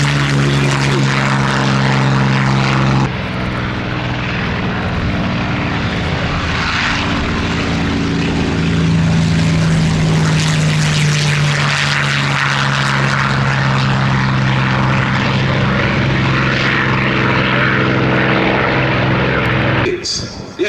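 A Supermarine Spitfire propeller fighter flies past at the Shuttleworth summer airshow, its engine droning loud and steady for the full span with a pitch that shifts as it passes, and voices faintly underneath.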